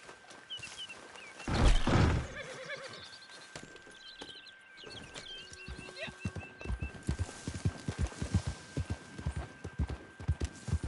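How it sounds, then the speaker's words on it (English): Horse hooves clip-clop in Red Dead Online, a quick rhythmic run of close hoofbeats after a loud whinny, with faint birdsong and a brief voice in the background. "That is one fine horse."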